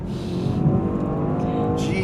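Mercedes-AMG S63 E sedan with over 1,000 pound-feet of torque accelerating hard, a loud steady engine roar with rising tonal whine heard from inside the cabin, continuous and close throughout.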